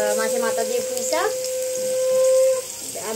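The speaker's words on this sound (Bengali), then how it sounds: "এখানে চলছে ভাজা" Food frying in a pan in a home kitchen where several kinds of fried dishes are being cooked, a steady close sizzle running under people talking throughout.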